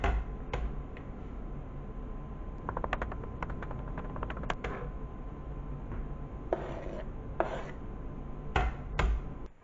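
Knife chopping peeled boiled eggs for a homemade macaroni salad, a run of sharp irregular taps against a board, some quick clustered strikes, close and fairly quiet with no talking.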